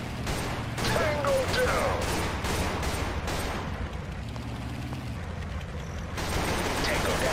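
Bursts of gunfire crack through a battle in the shooter Total Conflict Resistance, several sharp shots early followed by rumbling combat noise, heard beneath a player's talking.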